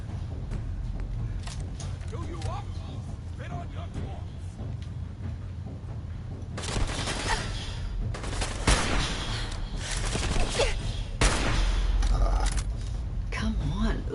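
A shotgun fires several times in Fallout 4, heavy blasts mixed with game action and thuds, while people talk over the fighting.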